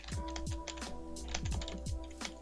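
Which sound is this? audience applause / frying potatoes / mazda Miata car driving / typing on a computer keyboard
typing on a computer keyboard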